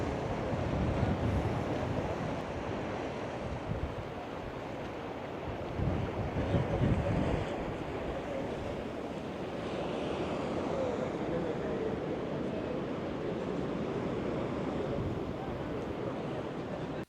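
Steady wind gusting over the microphone mixed with ocean surf at Plage Basque beach at high tide with small waves, a continuous broad roar with no talking.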